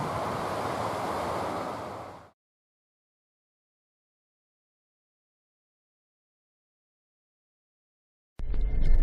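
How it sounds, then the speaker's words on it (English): Strong wind roars outdoors at a national forest campground in Central Oregon, a loud, broad rushing gust for about two seconds before it drops to silence, with a brief burst of noise at the very end. "windy out."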